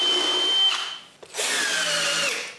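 Cordless power drill drives screws into plywood with two whirring bursts, the second longer and rising in pitch as the screw seats, with a short pause and a clack between them.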